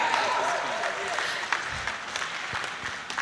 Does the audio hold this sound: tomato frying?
no